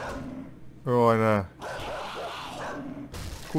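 In a survival video game, a dog gives one loud, harsh bark close by over a tense, noisy game background, with someone talking quietly before and after it.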